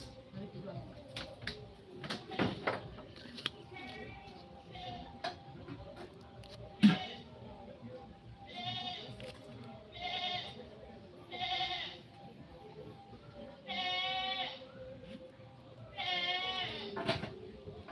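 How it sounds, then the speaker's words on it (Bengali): A goat bleats several times in short wavering calls, some near and some softer, spaced across the stretch amid faint ticking and low room noise. "এই ছাগল ডাকিস না।"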